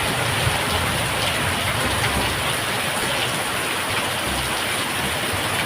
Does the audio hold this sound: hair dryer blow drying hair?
no